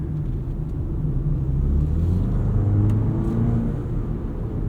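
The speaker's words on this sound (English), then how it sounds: "You can hear a little bit of turbo noise in light throttle applications." Steady engine drone and low rumble from a 2025 BMW X3 30 xDrive with an 8-speed automatic, heard from inside the cabin under light throttle, with a faint turbo whir over a smooth, continuous hum.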